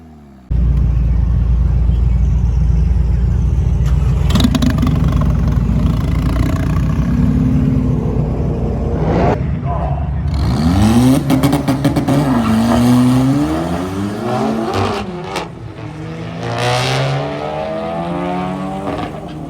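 An Audi A3 drag car makes a quarter-mile run, its engine roaring loud and steady before climbing in pitch through hard acceleration and gear changes, then easing off and fading.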